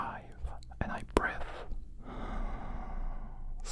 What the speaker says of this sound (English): So you are going also to hear some breathing